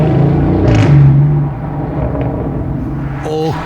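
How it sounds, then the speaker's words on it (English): A Lamborghini Urus SE driving past on a road, a loud broadband engine rumble that swells and then eases over a few seconds, with no speech. "Yeah, that sounds like an Urus SE."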